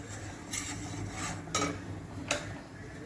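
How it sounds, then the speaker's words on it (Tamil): Flour being stir-fried in a pan, a soft continuous rustle under three distinct scraping strokes of a spoon against the metal, spaced about a second apart, close and without speech. "இதை நல்லா வதக்கிக்கிறோம்."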